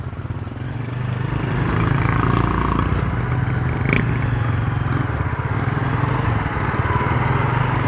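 A tractor engine runs steadily at an excavation site on a dangerous mountain bend at Shakhaki, with a crane loading trolleys nearby. The engine drones low and continuous and close by, with a brief clank partway through and no voices.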